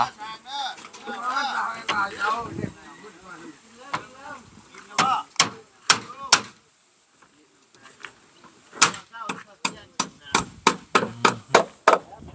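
Hammer blows ring out on nails, a run of sharp, evenly spaced strikes, close and loud, with people talking over the earlier part.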